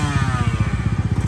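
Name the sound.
motorcycle engine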